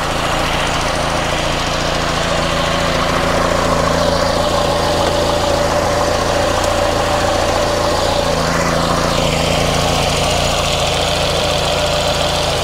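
A Volvo 480 with a 2.0 litre engine idles steadily and loud up close, its even rumble carrying the ticking puff of an exhaust leak near the front manifold, with no talk over it.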